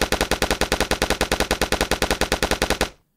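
Rapid automatic gunfire from a multiplayer battle royale video game, a steady burst of about two dozen evenly spaced loud shots that runs until the magazine empties and cuts off abruptly.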